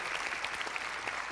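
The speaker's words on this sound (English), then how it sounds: "Give her a round of applause." A live audience claps steadily through a short burst of applause at a Q&A session with Dr. Jeffrey Long on near-death experiences, a dense, even patter with no talk over it.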